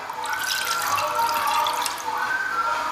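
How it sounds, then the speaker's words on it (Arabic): Water pours steadily into a roasting tray holding chicken, making a continuous splashing trickle with a bright, hollow ring. It is close and fairly loud, and no speech is heard. "نزيدوه الماء ونصبوه في وسط البلاتو"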